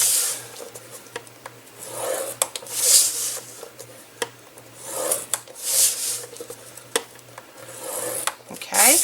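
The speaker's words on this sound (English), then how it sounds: "put it in our scoreboard, and we're going to score at 1 inch all the way around" Cardstock being scored on a scoring board at one-inch lines, repeated rasping strokes with soft scraping swells and small taps between passes, close and fairly loud with a low steady hum beneath.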